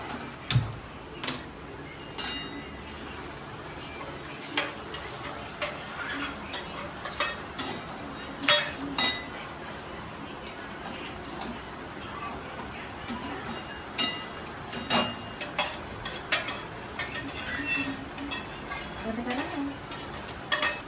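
Rice, sago, cashews and almonds are dry-roasted in a pan, with repeated scraping and clinking of a spoon against the metal and a light rustle of grains. A voice talks intermittently over the stirring.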